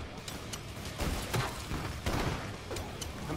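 Repeated grenade blasts from the co-op zombie shooter Killing Floor 2 during a frantic wave, a dense run of booming explosions and gunfire rolling one after another at steady loudness with no talk over them.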